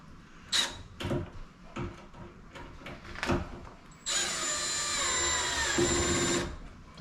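Milwaukee 4-in-1 installation driver driving a screw on a low clutch setting: scattered handling clicks and knocks, then a close, sustained whining motor run of about three seconds ending as the clutch slips.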